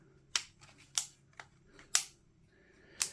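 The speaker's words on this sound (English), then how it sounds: "you do have your manual bolt hold open right here and release, which is awesome" Sharp metallic clacks from the bolt of a Maruyama MP9 gas blowback airsoft gun being locked open and released, about five distinct close snaps at uneven intervals in a quiet room.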